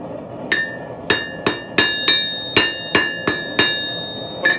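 A hammer rings sharply on steel over an anvil horn while a J hook is forged, nine bright metallic strikes in an uneven rhythm, each leaving a brief ringing decay, loud and close with no voices.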